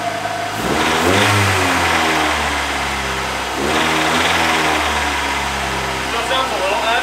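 A car engine revs up and settles twice, with a ticking that suggests lifter noise, close and loud, while people talk over it.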